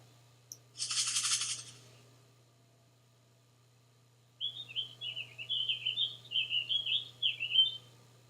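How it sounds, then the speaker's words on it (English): A brief rush of noise, then a steady run of high, quick birdhouse bird chirps twittering somewhere in the background, soft and fairly distant. "Kind of a backgroundy bird sound."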